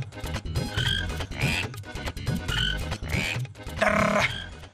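Several frogs croak loudly and close by in an irregular chorus of repeated rasping calls, with a sharp rising cry near the end.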